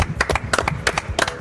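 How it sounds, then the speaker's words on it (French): Audience applause at the Festival d'Avignon, a burst of scattered hand claps with uneven rhythm, fairly close and moderately loud, with a little voice underneath. "Je vous demande de faire un tonnerre d'applaudissements"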